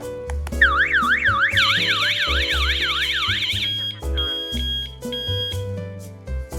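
A PG-109 alarm host sounding its distress alarm after the SOS button is pressed: a loud warbling siren sweeps rapidly up and down for about three seconds over a steady background of other tones, with no talking.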